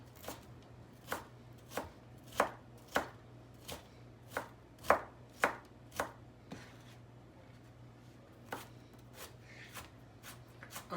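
A knife dicing vegetables on a cutting board for shrimp fried rice, a series of about fifteen crisp, close chops in an uneven rhythm with a faint hum behind.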